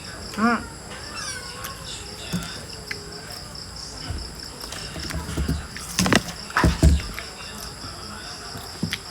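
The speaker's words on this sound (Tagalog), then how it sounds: "May pusa." A cat meows a few times at close range over a steady chirping of crickets, with some brief bumps and low talk in the background.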